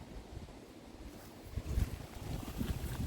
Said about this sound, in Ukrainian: Вітряно сьогодні.